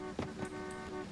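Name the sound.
car horn honking in the video game Who's Your Daddy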